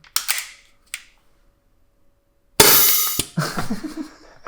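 An SSP18 gas airsoft pistol fires two sharp, close snaps a second apart, then after a pause lets out a loud burst of rushing gas and clatter lasting over half a second, followed by rattling mechanical noise.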